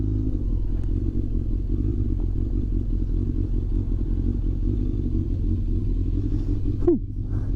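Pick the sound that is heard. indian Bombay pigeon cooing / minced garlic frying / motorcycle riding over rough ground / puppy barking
motorcycle riding over rough ground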